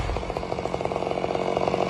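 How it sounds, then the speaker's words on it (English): A chainsaw cuts the frost-covered top off a tall snow-covered tree, its engine snarling loud and close with a fast pulsing rhythm throughout. "He starts his chainsaw and cuts away the frost-covered treetop."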